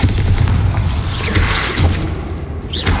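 A Bombarda spell explosion in Hogwarts Legacy erupts amid a dense, continuous roar of combat effects, loud and sustained throughout with low booming rumble and crackling debris.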